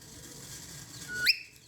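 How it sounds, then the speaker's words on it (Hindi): A pet parrot gives one short, rising whistle, a bright sweep near the end, heard close against a quiet outdoor background with no talking. "मिट्ठू सीटी कर रहा है। सीटी सीटी बोलता है"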